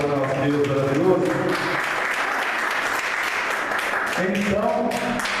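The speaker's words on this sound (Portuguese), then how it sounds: "Posso ouvir uma salva de palmas para nosso Deus maravilhoso?" A congregation at a church service breaks into sustained, dense applause, with a voice speaking over the clapping at the start and again near the end.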